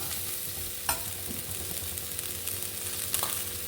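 A Chinese potato stir-fry mixed with ground coconut sizzles in a pan, a steady close frying hiss with a few sharp scrapes of a spoon stirring.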